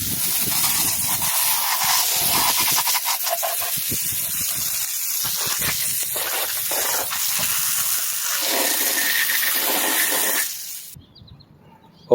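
A steady, loud hiss of spray on a metal detector coil cover runs for about ten seconds, then cuts off abruptly into near silence.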